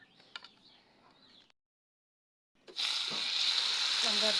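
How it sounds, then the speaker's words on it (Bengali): Eggs fry in a pan and are portioned with a spoon. A quieter stretch with light clinks gives way after a brief silence to a loud, steady, close sizzle, with no talk. "এই চামচ দিয়ে আপনি পরিমাণ মতো প্রত্যেকটা ডিম এইভাবে ভেজে নেবেন"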